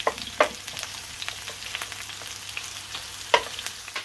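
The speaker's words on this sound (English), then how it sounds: "so I'm just going to saute the veggies and salami in olive oil" Vegetables and salami sauteing in olive oil in a pan give a steady, close sizzle, broken by a few sharp clicks of stirring, with no talking.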